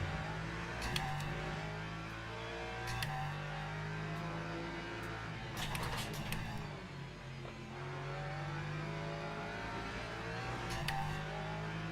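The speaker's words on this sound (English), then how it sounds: "Hypercar behind." Hypercar engine in a racing video game, a steady mid-pitched drone that rises and falls in pitch as it runs close behind, with faint whooshes and clicks over the top and no voices.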